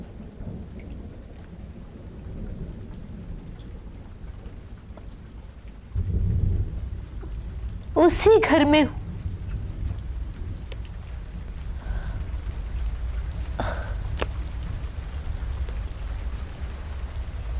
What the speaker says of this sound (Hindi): वैसी ही वर्षा हो रही है।